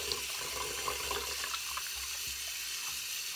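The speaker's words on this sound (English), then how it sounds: "Get a little bit more water in here in this sink." A bathroom tap runs into a sink being filled for a bath-salt soak, a steady close-up splashing and trickling flow at moderate level with no talk.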